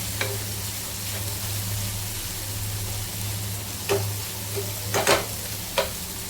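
Prawns sizzle on a hot griddle in a continuous crackling hiss, broken by a few sharp scraping clicks of a spatula near the end.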